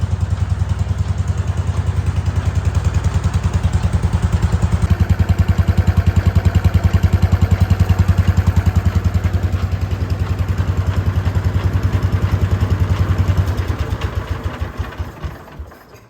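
A Wheel Horse C-120 lawn tractor engine runs loud and close with a steady rhythmic chugging, then sputters and winds down to a stop near the end.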